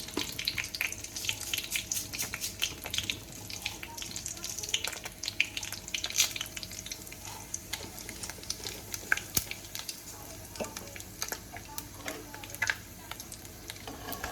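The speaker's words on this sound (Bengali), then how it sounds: "এবার আমি শুকনো লঙ্কা তেজপাতা আর 5 ফোড়ন দিয়ে দেবো।" Dried red chillies, bay leaves and panch phoron crackle in hot oil as a tempering for an ash gourd ghonto with fish head and moong dal, giving a steady, close, spitting sizzle with scattered sharp pops throughout.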